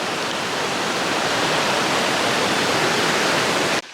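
A mountain river rushes along a trekking trail, a loud, dense, steady roar of flowing water heard up close, cutting off abruptly at the very end.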